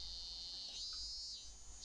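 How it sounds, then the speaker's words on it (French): Cicadas buzz in a steady, continuous high drone throughout a summer village scene in the video game Kare wa Kanojo, faint and without talk. "L'été était arrivé. Les cigales chantaient"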